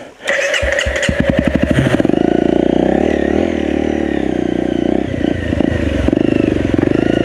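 A Honda CRF250L dirt bike engine starts with a rapid clatter, then holds a steady loud drone as the bike climbs uphill on an enduro ride, close and continuous.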